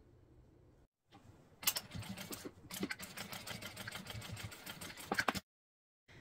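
A sewing machine runs in a fast steady rattle while stitching bag straps, starting after a brief pause, running several seconds close up, then stopping abruptly.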